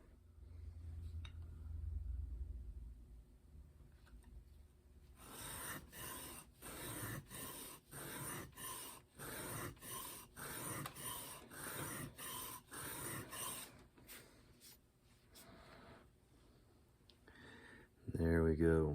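A hand file works a deep gouge flat on a steel cape chisel in repeated rhythmic rasping strokes, close and fairly quiet. The strokes run for several seconds and then stop with a final scrape.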